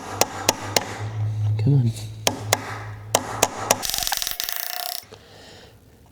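A chisel is hammered against a big stuck nut on a Willys Jeep Dana 25 axle: a string of sharp, ringing metal strikes and a brief buzzing rasp, with someone speaking briefly.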